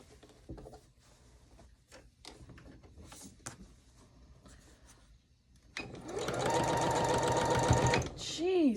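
A sewing machine stitches a quilt block with a brand new needle, starting after scattered handling clicks and a voice, then running as a loud steady whir for a couple of seconds before slowing.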